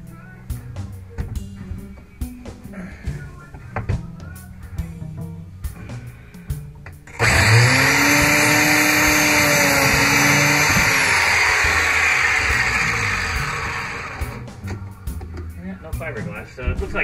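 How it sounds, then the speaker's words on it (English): Biscuit joiner cutting slots into the side of a sailboat cabinet, a loud steady whine lasting several seconds before spinning down, with someone talking before and after the cut. "I'm gonna cut a couple biscuits in here into the side here"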